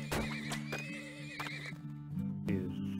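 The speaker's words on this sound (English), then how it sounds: "2 horses." Two horses in the video game Turmoil neigh and whinny in shrill, wavering calls, with hooves clip-clopping between them, clear and close over quiet game ambience.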